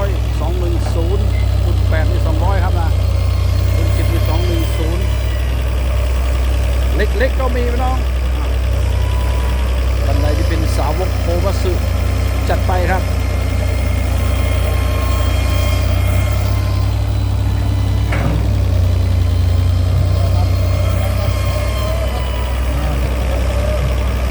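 A Komatsu PC200-7 long-boom excavator runs with a steady, deep diesel drone, loud and close, while someone talks over it.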